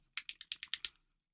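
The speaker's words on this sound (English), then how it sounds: "It looks like you're typing" Seven quick, crisp keystrokes on a computer keyboard, close and clear in an otherwise quiet room, tapped in a fast even rhythm and then stopping.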